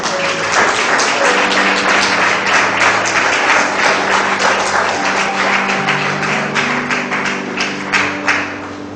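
A church congregation applauds for the Lord, with dense, sustained clapping that fills the whole stretch and steady tones from instruments underneath.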